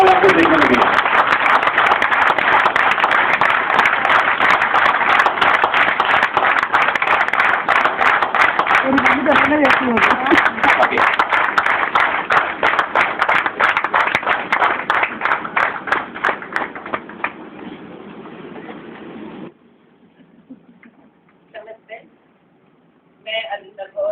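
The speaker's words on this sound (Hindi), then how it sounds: "इतनी तालियों की गड़गड़ाहट के बाद मैंने बोला नहीं" Audience applause at an award recognition event, dense and sustained for most of the clip, with voices and cheering mixed into the crowd noise, then fading out into near silence with a few brief sounds at the end.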